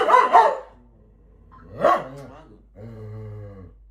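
A puppy yaps in a couple of short, sharp bursts, then lets out a longer, drawn-out whine, fairly close.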